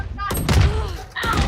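Gunfire in a shooter video game, a loud burst of shots followed by another sharp shot, mixed with a person talking.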